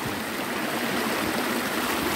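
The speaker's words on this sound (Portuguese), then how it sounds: "eu aqui tomando um banhozinho de cachoeira" A natural waterfall rushes in a steady, dense roar of falling water that fills the whole moment without a break.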